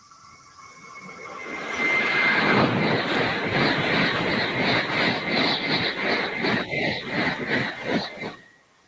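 A Shinkansen bullet train thunders past overhead on a bridge, a loud, sustained rushing roar that swells quickly and holds for several seconds before easing off.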